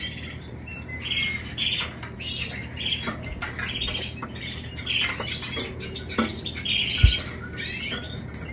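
Pet canaries in breeding cages chirp and squawk busily throughout, with overlapping bright tweets and calls close by, plus a brief low thump near the end.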